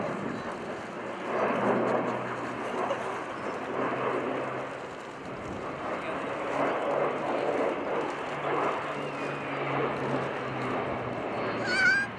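An A400M military transport aircraft at an airshow, banking steeply: a continuous broad engine roar and propeller drone from a distance, holding fairly steady throughout with no talk.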